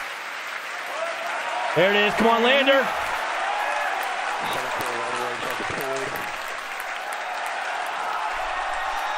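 A crowd cheers steadily as a Falcon Heavy booster lands on a drone ship. A broad, continuous wash of cheering and applause runs throughout, while a nearby voice speaks over it.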